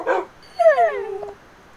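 Dogs in Minecraft give a quick yip followed by a high, drawn-out whining whimper, close and clear with quiet gaps around them.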